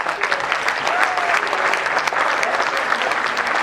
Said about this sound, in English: I would request everyone to please clap for yourself first of all.